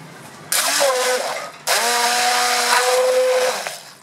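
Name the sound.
immersion blender mixing crêpe batter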